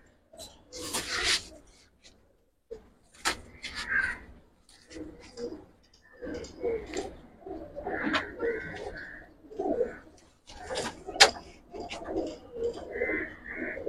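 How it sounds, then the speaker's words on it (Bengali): Giribaz pigeons in a loft, soft cooing mixed with harsh cawing crows and other birds, scattered calls over several seconds with faint voices in the background. "আজকে শুধু কবুতর দেখবো ভাই"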